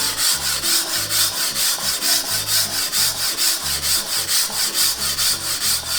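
Kitchen knife with a chipped edge ground on a whetstone, a loud gritty rasp repeating in steady back-and-forth strokes, close up, with no voices.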